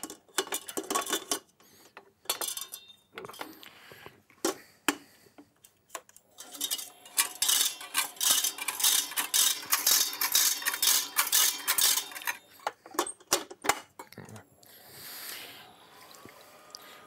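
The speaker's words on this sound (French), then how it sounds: "je vais commencer à laisser monter mes blancs à vitesse moyenne" Egg whites whip in a stand mixer at medium speed, a busy metallic whirring and clattering of the whisk that builds into a dense, continuous rattle midway before easing off.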